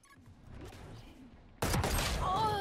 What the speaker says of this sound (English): she shot me